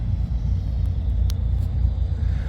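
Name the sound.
cars driving away from car show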